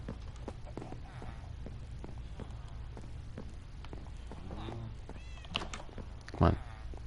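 A cat meows in a Minecraft survival game, a few short mewing calls with one louder, sharper meow near the end, heard over steady background game noise with no talk.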